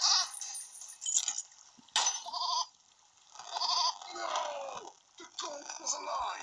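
A video game goat bleats in several short, wavering cries, with a voice talking around them.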